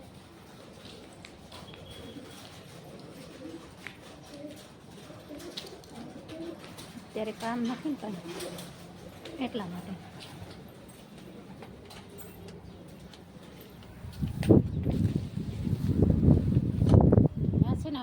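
Pigeons coo softly in the background while a person talks, then a louder rumbling swell of noise builds toward the end.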